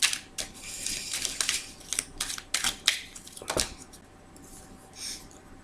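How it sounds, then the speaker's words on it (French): Tarot cards set down one after another on a table, giving a run of short, sharp slaps and papery rustles close by, quieter toward the end, with no talk. "Alors, je vais remettre quelques cartes."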